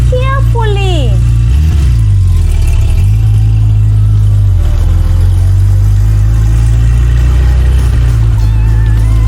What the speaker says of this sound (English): Yes, it's car.